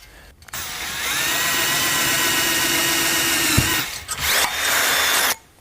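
A power drill whirs steadily for several seconds drilling a hole to mount a shutter bypass track, then stops and restarts in a shorter burst, loud and close.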